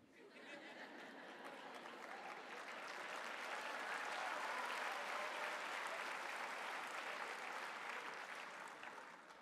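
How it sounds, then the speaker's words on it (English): Parents applauding at a college convocation, a steady wash of many hands clapping from a distance with faint crowd murmur, swelling slightly midway. "Is that the parents clapping?"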